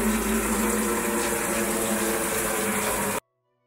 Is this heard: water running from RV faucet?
yes